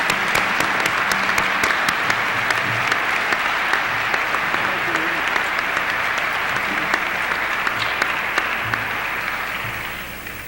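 A high school Hall of Fame induction audience applauds warmly for the inductees, with steady, dense clapping filling the room for about ten seconds before gradually tapering off, with no one speaking over it.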